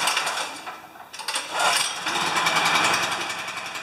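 A portable generator engine, choke set, is pull-started: a short rattle of the pull, then the small engine catches and runs with a loud, steady buzzing drone close by.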